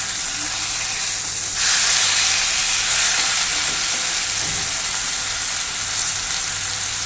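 Kerala-style fish frying in a pan over low flame gives a steady, loud sizzle and hiss of hot oil, swelling briefly as it is disturbed, with no talking.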